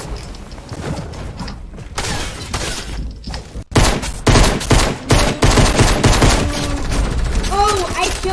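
Gunfire in the Fortnite video game, dense rapid bursts and volleys that grow louder and more continuous midway, with voices talking over the shooting.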